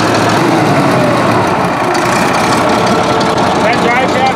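A Case 1150 dozer's diesel engine runs steadily at close range while its drive shaft spins, a constant loud mechanical drone with a rough low rumble and no pauses.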